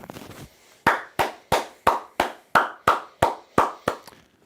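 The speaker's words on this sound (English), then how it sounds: "Clap it up to Tennessee." Ten sharp, evenly spaced hand claps sound close and loud in a steady beat, each snapping out cleanly with a short decay, preceded by a brief murmur.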